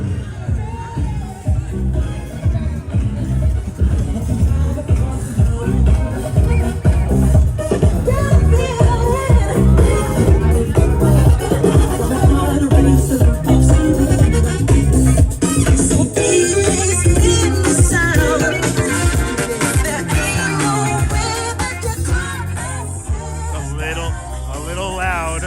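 Loud, dense crowd chatter fills the Governors Island ice sculpture show in New York City, a steady near roar of many overlapping voices with music-like tones threaded through, continuous for the whole stretch.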